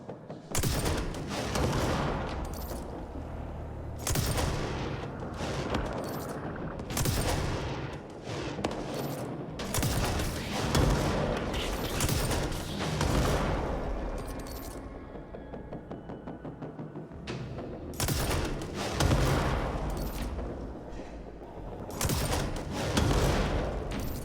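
Enemies fire heavily in the video game Control, repeated loud bursts of automatic gunfire and booms coming in waves with brief lulls, no talking.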